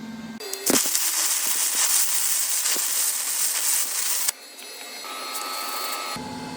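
Torch welding on the lower anvil of an English wheel, a loud close roaring hiss that runs steadily for several seconds, then drops to a quieter hum with a faint tone.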